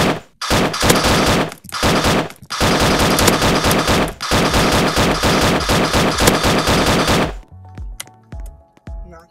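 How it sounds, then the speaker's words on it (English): Rapid, loud bursts of assault rifle fire in a Roblox game rattle in long continuous strings with short gaps, then stop and give way to a few scattered game clicks and thuds. "Pull out assault rifle."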